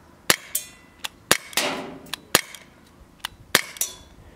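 A Sig Sauer P226 4-joule pellet air pistol fired in single action: a series of sharp, snappy cracks, roughly eight to ten irregularly spaced shots with a few faint mechanical clicks between, close and dry.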